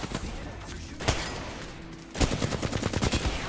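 Gunfire in Apex Legends: a single sharp shot, then a dense run of rapid automatic bursts, loud and close in a busy game mix.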